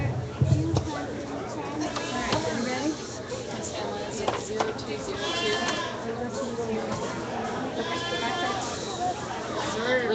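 Goats bleating at a county fair goat show, several repeated bleats near and far under a loud announcer and crowd chatter.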